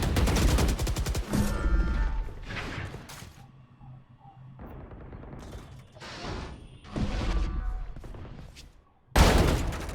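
Vandal rifle fire in a Valorant esports match, with loud bursts of rapid automatic shots alternating with quieter stretches of game sounds, and a final sharp burst at the end, under light commentary.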